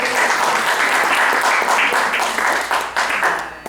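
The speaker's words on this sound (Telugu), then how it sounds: "ఒకసారి అఖిలేష్ కూడా చప్పట్లు పెడదామా" An audience at a Ramayana storytelling session applauds with dense, sustained clapping that stays loud and close before thinning out toward the end.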